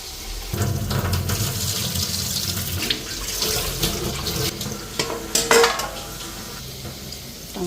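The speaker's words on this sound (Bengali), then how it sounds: "একটু ঠান্ডা জল দিয়ে দিই" Cold water from a kitchen tap poured while cooking, with a steady splashing stream, clinks of pots and utensils, and a brief louder clatter near the middle, close by and without talk.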